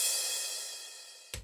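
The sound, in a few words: crash cymbal sample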